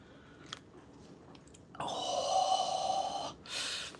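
A cup of tea being slurped close up: a sustained, loud sipping draw lasting over a second, then a second shorter slurp, after a few faint mouth clicks.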